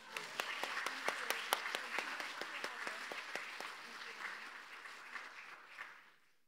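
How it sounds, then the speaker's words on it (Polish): Warm applause rises from the audience at a rural women's association awards ceremony, with sharp individual claps standing out in the crowd, holding steady and then fading out toward the end. "Gorące brawa, słuchajcie."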